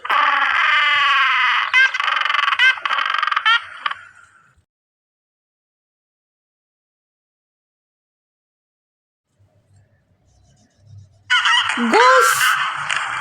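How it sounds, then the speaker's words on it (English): Geese honk loudly and close in a rapid burst of repeated calls, then fall silent before another harsh honking burst returns at the end. "goose"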